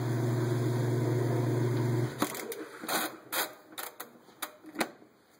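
A Whirlpool washing machine hums steadily through its spin for about two seconds, then winds down into a series of scattered clicks and knocks from the drum and mechanism.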